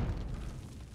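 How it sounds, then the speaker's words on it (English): A video game explosion in a tunnel rumbles as one deep, muffled boom that decays over about a second, faint and low with no voices. "Explosion."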